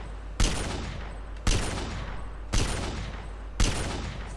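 Gunfire in the online zombie-survival game MTA: DayZ: four loud, sharp shots spaced about a second apart, each with a long decaying echo, heard alone with no talking.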